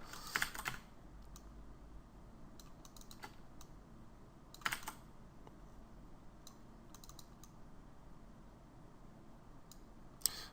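Keyboard typing on a computer while a 3D model's decals and textures are edited, with light irregular clicks and a few brief denser bursts over a quiet room tone.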